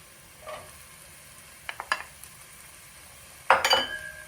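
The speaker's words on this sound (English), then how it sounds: "Now I'm gonna add my carrots" Carrots dropped into a sizzling soup pot and stirred, with a few faint scrapes and clinks, then a brighter burst of sizzle near the end; quiet, close kitchen sound with no talking.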